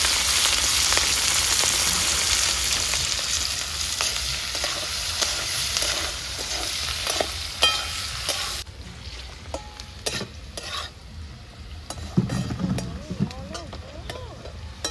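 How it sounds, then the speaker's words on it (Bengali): Sliced capsicum and onion fry in hot oil with a loud, dense sizzle and stirring scrapes close by, then the sizzle drops to a softer crackle broken by utensil clinks and taps. "তেলে আমি ক্যাপসিকাম পেঁয়াজ গুলা দিয়ে দেব।"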